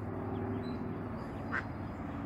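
A mother duck gives a short quack near the end, faint against a low steady background hum with no talking.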